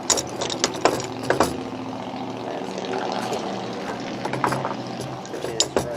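Clicks and a few sharp ratcheting snaps from a socket wrench working a tight bolt loose on a Kohler small engine, close by over a steady mechanical background hum.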